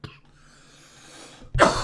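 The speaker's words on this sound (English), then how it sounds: "I just had a cough creep up on me there" A single sharp cough bursts out loud and close at the end, after a quieter stretch of faint background tone.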